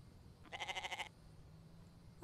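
A goat in the game The Infected gives one short, wavering bleat of about half a second, faint over a low steady background hum, with no voices.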